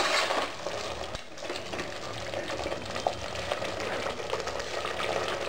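Pressure-cooked mutton pieces stirred into fried masala in a pan for Bangalore-style donne biryani: steady frying sizzle with scraping and stirring noises, close and continuous, with no talking.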